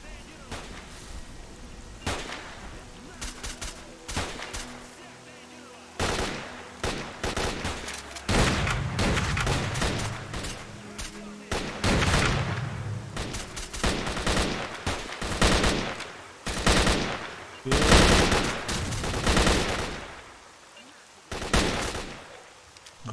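Rapid gunfire bursts in the video game S.T.A.L.K.E.R.: Call of Pripyat, with repeated loud shots and volleys cracking in irregular clusters over about twenty seconds, fairly close and dense.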